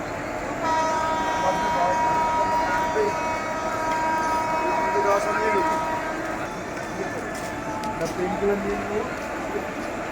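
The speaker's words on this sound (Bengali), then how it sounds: "এই মেল ট্রেন ছেড়ে যাচ্ছে। মেল ট্রেনটা ছেড়ে যাচ্ছে।" A mail train departs Bandel station in India: a loud, steady rumble of rolling carriages carries a long sustained horn blast, with a few shorter horn tones and station bustle around it.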